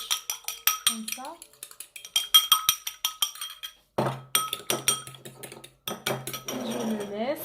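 Cutlery clinks and scrapes against a plate while a golden glaze for brioches is stirred, a quick run of close, bright metallic taps and chinks with brief pauses, then steadier scraping.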